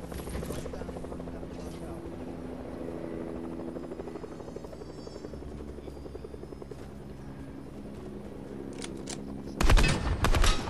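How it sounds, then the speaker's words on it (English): A helicopter in the battle game Fortnite drones steadily with a heavy rotor thrum throughout, joined near the end by a loud burst of gunfire. "I'm gonna try to land inside the helicopter."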